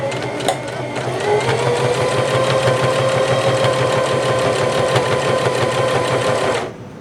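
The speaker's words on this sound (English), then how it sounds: "Now, you'll be able to sew." A Singer Heavy Duty 5554 sewing machine with a new LED bulb stitches in one steady, loud, fast mechanical run of about six seconds, with no talking, then stops abruptly.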